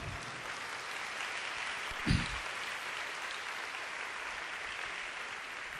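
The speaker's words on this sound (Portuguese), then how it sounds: "Vamos aplaudir a Deus e a sua palavra." Congregation applauding at a church baptism service, a steady dense wash of clapping throughout with one brief louder knock midway.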